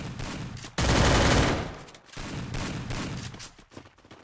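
Gunfire in the mobile battle-royale game Free Fire, with a sustained loud burst of automatic shots followed by a second, slightly quieter stretch of rapid fire, then scattered shots fading.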